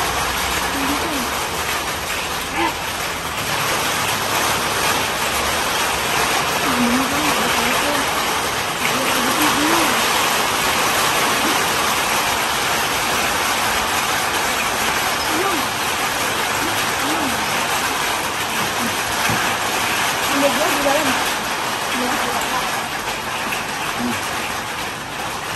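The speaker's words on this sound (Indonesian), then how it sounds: "Langsung hujan." Steady rain falls beside a stream running down a hillside, a continuous broadband wash of water with no pauses, while voices talk faintly underneath throughout.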